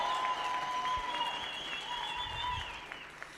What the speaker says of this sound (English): A huge round of applause for Boitumelo.